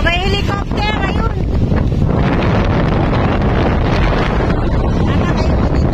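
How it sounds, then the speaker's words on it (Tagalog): Strong wind gusting across a beach at Ilig-Iligan in Boracay, roaring loudly into the microphone as a continuous heavy buffeting, with faint voices mixed in near the start. "Lakas yung hangin."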